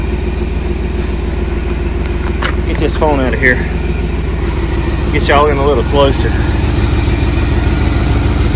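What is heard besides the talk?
1979 Jeep Cherokee AMC engine idling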